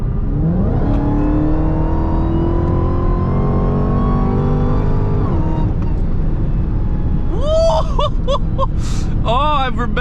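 A Dodge Hellcat Charger pulls hard with its supercharger whining, a loud rising, multi-toned scream that climbs through a long pull, then drops off. Quick gear changes and revving bursts follow, heard from inside the car, with people talking.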